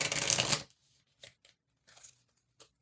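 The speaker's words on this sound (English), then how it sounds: "let's give it a couple of good shuffles" A deck of tarot cards is shuffled in one loud, dense riffling burst up close, then a few faint, brief card taps and slides follow in a quiet room with no talking.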